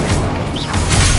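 In the Hogwarts Legacy video game, an Incendio fire spell goes off as a dense whooshing, crackling burst of flame with a faint rising shimmer, loud and continuous throughout.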